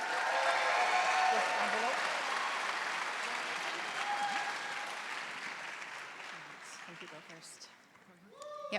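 An audience at a startup pitch competition applauds loudly and steadily, then the clapping gradually thins and fades toward the end.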